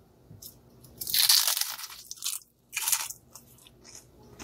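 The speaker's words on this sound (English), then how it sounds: "let me take a crunch." Two loud, crisp crunching bites into crunchy food, the first long and grinding, the second shorter, followed by softer chewing, close up with no talking.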